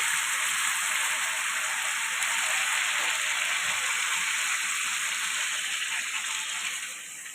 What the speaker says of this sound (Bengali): এখন আমি গরম জল দিয়ে দিব চিকেনে